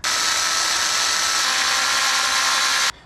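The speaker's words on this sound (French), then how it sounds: "Et pour percer, j'utilise un forêt à étage." A step drill bit bores through a kayak hull in one steady, high-pitched whine lasting nearly three seconds and then stopping abruptly, close and loud with no talking.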